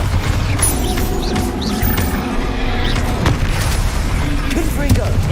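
A Bombarda explosion spell in Hogwarts Legacy goes off with a deep boom amid ongoing spell combat, with a voice talking over the rumbling clatter and further blasts.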